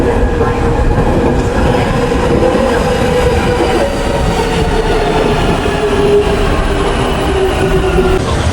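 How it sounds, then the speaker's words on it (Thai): A metro train rumbles along steadily and loudly, with rattling wheels and a faint metallic squeal running throughout. "ตอนนี้ก็มาขึ้นรถไฟนะครับ สาย M7 สีชมพูนะครับ"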